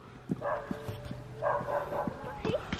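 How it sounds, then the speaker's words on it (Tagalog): Dog barking from a nearby house, heard as repeated yapping barks at moderate distance over ambient outdoor noise, with people talking quietly underneath. "Meron yung tahol na parang nauulol na aso."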